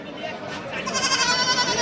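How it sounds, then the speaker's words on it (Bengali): A Black Bengal goat, a mother with her kid, at the Baneshwar livestock market in Rajshahi gives a loud, quavering bleat that rises near the end of the short stretch, with market voices around it. "এই মা বাচ্চা অরিজিনাল ব্ল্যাক বেঙ্গল ছাগল যে রাজশাহী বানেশ্বর হাটে"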